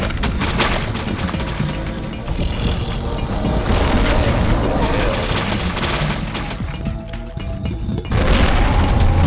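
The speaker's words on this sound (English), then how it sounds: "Just keep firing rockets in there." Rockets fired in Duke Nukem 3D explode in a dense, continuous barrage of loud booms and crashes that barely lets up over several seconds.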